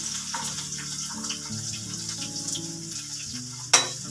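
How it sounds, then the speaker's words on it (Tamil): Onion, garlic, curry leaves and mustard seeds frying in hot oil for a Bangalore-style karamani gravy, a steady close sizzle with light stirring and a sharp clatter near the end, no talk. "வெங்காயம் வதக்கிக்கலாம்."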